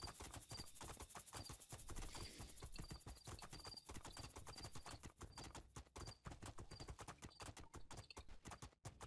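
A horse gallops at a rapid, driving pace in the video game Two Worlds 2, its hoofbeats dense, loud and close throughout, with a faint high tone recurring above and no speech.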